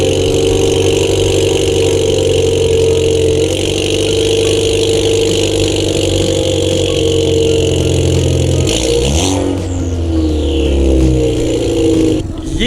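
A car engine runs loud and close after a cold start, holding a steady high rev with a strong droning hum. Near the end the revs drop with a brief hiss as the blow-off valve releases.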